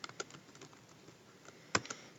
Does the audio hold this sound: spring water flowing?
no